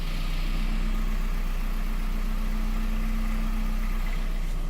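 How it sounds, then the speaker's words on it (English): A 2005 car engine idles in a garage with a steady, unbroken hum and a low mechanical drone, close and consistent from start to finish with no talking. "My car is idling right now"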